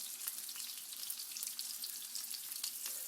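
Chicken dips fry in hot oil with a dense, steady sizzle and crackle, splattering close by as the pieces are turned.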